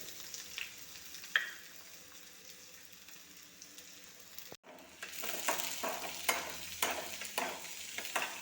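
Chopped onion drops into a pan of fried mustard seeds and starts to sizzle, with frequent stirring scrapes growing louder after a brief pause; fairly quiet and close, with no voices.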